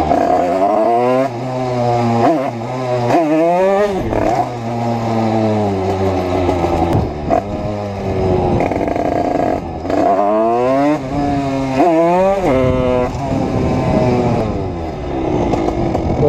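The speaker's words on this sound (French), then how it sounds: "je crois que j'ai fait assez gueuler la moto pour aujourd'hui en tout cas." A motorcycle engine is revved loud and close, rising and falling in repeated surges with climbing pitch sweeps and brief drops between throttle bursts.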